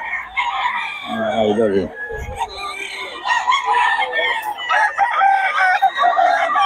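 Several gamecock stags crowing and clucking nearby, overlapping calls from a few birds in close succession, with someone speaking over them.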